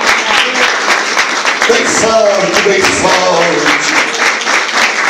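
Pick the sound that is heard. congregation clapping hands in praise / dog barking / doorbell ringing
congregation clapping hands in praise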